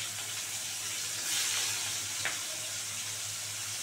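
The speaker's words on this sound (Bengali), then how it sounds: "পেঁয়াজ ফোড়ন দিয়ে দিলাম।" Chopped onions tempered in hot oil with black cumin for a fish curry crackle with a steady, soft sizzle, no talking.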